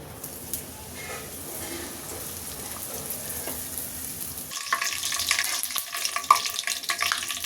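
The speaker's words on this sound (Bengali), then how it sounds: "তাও তেলটা গরম হয়ে গেছে অনেক, দেখেন কি সুন্দর ফুলছে" Bosnia paratha frying in hot oil over a medium flame, a steady close sizzle and hiss that swells louder and brighter partway through, with small pops and spatters and no talking.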